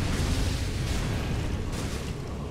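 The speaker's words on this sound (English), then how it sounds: "there's the poison explosion" Poison explosion in the video game Dark Souls 3: a dense, rumbling burst with heavy low-end roar that sustains and slowly fades over a couple of seconds, loud and close.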